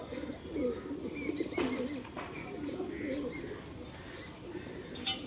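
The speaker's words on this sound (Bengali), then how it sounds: "দেখুন, এটাও একটা পাঞ্জাবি মালবাহী পায়রা।" A Punjabi pigeon gives soft, repeated low cooing close by, with a few faint chirps and a brief flutter of wings in the background.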